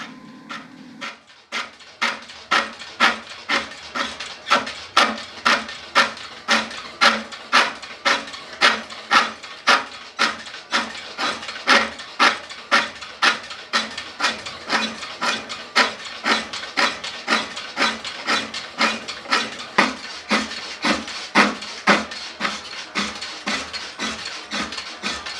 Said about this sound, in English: Here I'm busy with the spring pole lathe, just finishing up two small parts